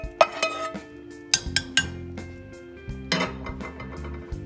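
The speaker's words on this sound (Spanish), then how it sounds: "Vamos a vaciarle lo que guisamos, el ajo, la cebolla y el apio." Sautéed garlic, onion and celery go into a pot of nearly cooked potatoes for potato soup, with sharp metallic clinks and scrapes of a utensil against the pot in uneven bursts, close and fairly loud.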